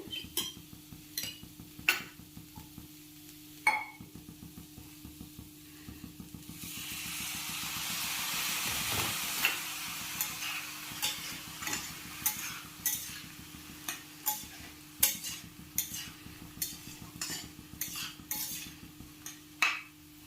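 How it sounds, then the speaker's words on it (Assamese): Masala for a papaya curry cooks in a pan after water is added, giving a soft bubbling hiss that swells in the middle, with repeated light spoon scrapes and clinks throughout. "মই ইয়াত পানী অলপ দি দিম, মছলাখিনি যাতে তলত লাগি নাযায়।"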